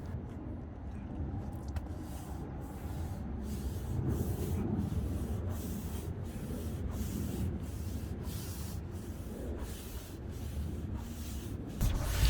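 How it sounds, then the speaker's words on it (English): A soft bristle brush scrubs a rubber flat roof with steady, repeated back-and-forth strokes, a fairly quiet, continuous rubbing and swishing with no talk. "With a soft bristle brush, soak it in the bucket and start scrubbing away."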